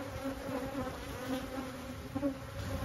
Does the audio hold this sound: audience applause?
no